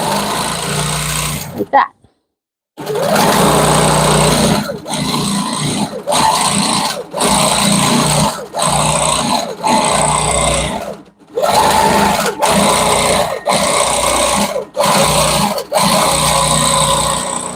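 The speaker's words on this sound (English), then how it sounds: "put my needle down where I had stopped, do a couple of stitches right here" A longarm quilting machine stitches a fabric quilt in long, steady runs broken by short pauses, loud and close, with a person talking over parts of it.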